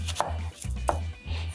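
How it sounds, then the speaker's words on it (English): Knife cutting an onion into very thin slices on a board, several steady chopping strokes with short pauses between them, close and clear with no talking. "I'm going to cut this onion as thinly as possible."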